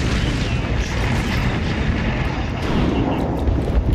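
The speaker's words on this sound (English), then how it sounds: "I just smacked it with a grenade" Video game grenade explosion, a loud dense rumbling blast that fills the whole stretch with continuous heavy boom and crackle, with no speech over it.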